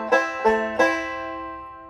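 Banjo plays a short intro in C tuning with the fourth string tuned to C: three bright plucked strums ring out in quick succession, then sustain and slowly decay, close and clear with no voices.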